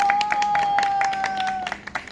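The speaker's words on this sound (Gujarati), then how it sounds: "તાળીઓથી એમનું સ્વાગત કરો પ્લીઝ." Audience clapping to welcome an elderly woman guest at a celebration event, a brief burst of close applause from a small crowd over a sustained tone, with a few scattered claps trailing off at the end.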